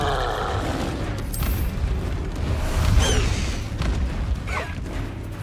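An Incendio fire spell cast in Hogwarts Legacy gives a loud, rumbling burst of flame with crackling pops and whooshing bursts that swell to a peak midway, with faint game effects woven through.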